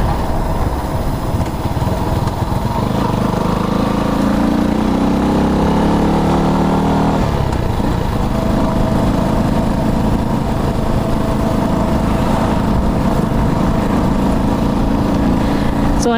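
A motorcycle engine runs steadily throughout, the bike fitted with a 2.7 high speed part, its continuous mid-pitched drone holding level at close range with a slight shift in tone partway through.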